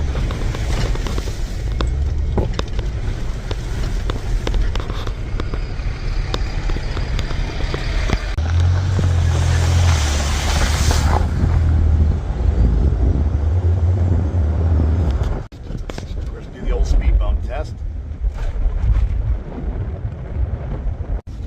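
Steady loud road rumble inside a car carrying a bike rack in Southern York County, Pennsylvania, with thumps and jolts as it rolls over potholes and a speed hump.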